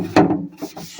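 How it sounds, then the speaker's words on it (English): Short, rough rubbing strokes of a cloth scrubbing a hard refrigerator part, close up, one strong swipe followed by a few lighter rasps. "And also you take and you scrub it like this."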